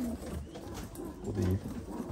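Ornamental birds at a breeder's aviary in Istanbul give soft, low cooing calls in short bursts, fairly faint against background room noise, with voices nearby.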